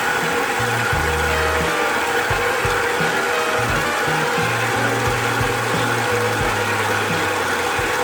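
Electric mixer beating eggs one at a time into butter creamed with sugar for a fall apple bake, a steady loud whir with shifting low motor tones throughout.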